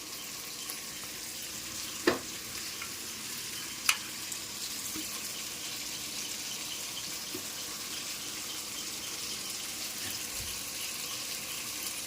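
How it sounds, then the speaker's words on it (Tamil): Constant hissing crackle of prawns frying in oil with no masala added, fairly close, with a couple of sharp clinks of a utensil against the pan. "இறாலை பொரிக்கணும்"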